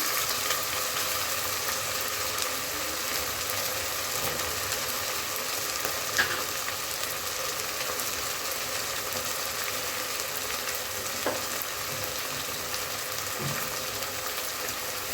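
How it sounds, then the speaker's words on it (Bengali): Onion, chilli and ginger-garlic paste fry in a pan for a rui fish head muri ghonto, making a continuous, even sizzle with occasional faint stirring clicks and no talking. "পেঁয়াজ মরিচটা যখন একটু ভাজা হয়ে যাবে এখানে আমি হচ্ছে আদা রসুনের পেস্ট দিয়ে দিই"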